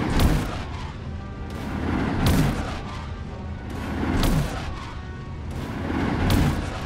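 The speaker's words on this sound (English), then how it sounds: "I'm deflecting the missiles back at you." Missiles deflected back at an enemy explode in Destroy All Humans, four heavy booms spaced evenly about two seconds apart, each a sharp crack swelling into a loud rumble over a steady background roar of combat.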